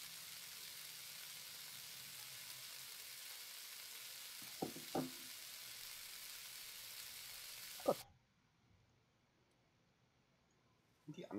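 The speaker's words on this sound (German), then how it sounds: "Hier brutzeln und brutzeln." Fish sizzling and frying steadily in a pan in the game Cooking Simulator, a continuous hiss with a few clicks of handling over it, then cutting off abruptly into near silence.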